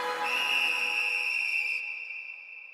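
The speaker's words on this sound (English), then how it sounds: "You hear that? There's the whistle!" A single sustained whistle blast signals the end of a fight in an anime, loud and steady with a bright shrill tone that thins out and tapers off toward the end.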